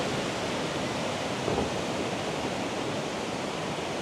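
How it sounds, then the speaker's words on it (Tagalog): Waterfall in Vietnam, reached after a 600-meter walk from the entrance, a steady broadband rushing roar filling the whole clip, loud and constant with no voices. "Yung waterfalls nila."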